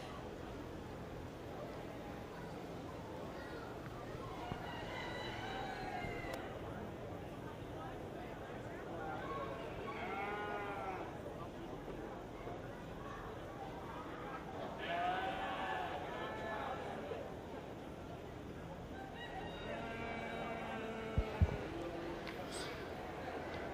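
Purebred market Hampshire sheep enter a 4-H/FFA show ring, bleating several times at spaced intervals, fairly faint under a steady murmur of voices and arena noise.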